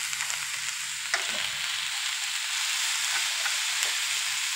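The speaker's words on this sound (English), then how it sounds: "Okay, so now I'm going to want to kind of fry this up." Potatoes fry in a pan on a gas stove, a continuous close sizzle with a few soft taps and scrapes, and no talking over it.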